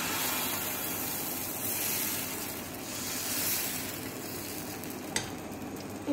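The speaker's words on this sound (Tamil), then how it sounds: "கல்லு சூடாயிடுச்சு. இப்போ நான் தோசை சுடுறேன்." Moringa leaf dosa batter sizzles on a hot griddle in a steady, close, hissing fry with a faint click near the end and no talking.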